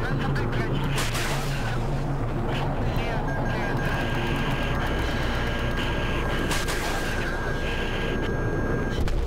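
Battlefield 3 gunfire with heavy booms and bursts under a constant dense roar of battle, loud and continuous throughout, with voices talking over it.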